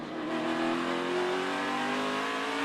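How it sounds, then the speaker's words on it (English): A loud, steady NASCAR Cup Series engine note at Martinsville Speedway with rising and falling pitch as the car pulls on and off the throttle, continuous throughout. "Mike, that engine noise and the tone of those RPMs"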